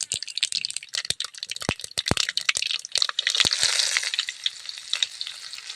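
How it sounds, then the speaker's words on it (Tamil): Mustard seeds and curry leaves tempering in hot oil, loud crackling pops and spatters in quick bursts that settle into a denser sizzle. "கடுகு போட்டு தாளிச்சுக்கலாம்."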